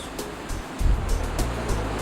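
Continuous roaring rush of a lahar, a torrent of lake water and volcanic slurry, a broad steady wash of noise that swells louder partway through.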